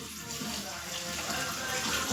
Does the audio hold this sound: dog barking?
no